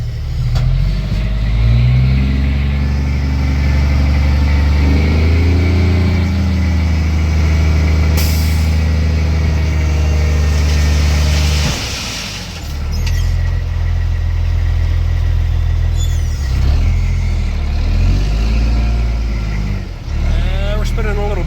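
A big dump truck idles with a deep steady drone, then engages its PTO and raises the bed, the engine note shifting and swelling before a hiss and a lower rumble follow, with occasional talk.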